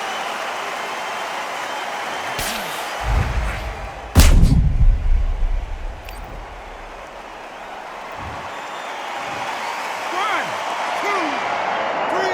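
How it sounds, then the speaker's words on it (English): Heavy punch impacts land in the Undisputed boxing video game during a knockout replay: a deep thud near three seconds, then a loud slamming blow at about four seconds, with crowd noise and commentator talk running underneath. "What a knockout shot. Let's take another look."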